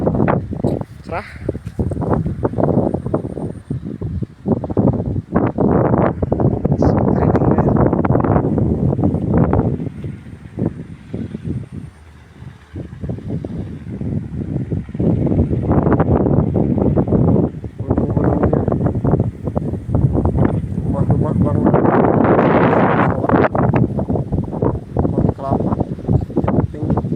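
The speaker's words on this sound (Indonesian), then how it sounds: "Pohon kelapa yang tertiup angin." Wind rushes through coconut palm trees outdoors in strong, gusting surges, buffeting the microphone with loud low rumble that rises and falls across the whole stretch, easing briefly before building again.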